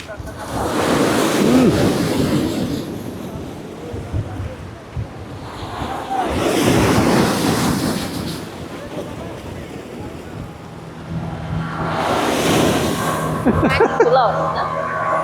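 Ocean waves surge and break in three slow swells at Patenga beach, Chattogram, with steady wind rushing over the microphone and faint voices in the background.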